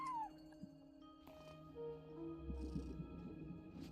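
A cat meows from a front desk in a game, a brief falling cry at the start over soft tonal game music, followed by a low purring rumble.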